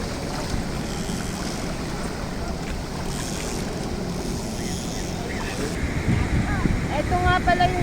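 Strong waves churn on a river at a dam, a steady rushing wash of water heard up close with wind buffeting the microphone and faint voices underneath.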